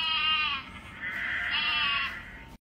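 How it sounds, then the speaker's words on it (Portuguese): A toy bleats like a sheep, a wavering electronic baa that pauses briefly and then continues before cutting off abruptly. "Como que faz a ovelhinha?"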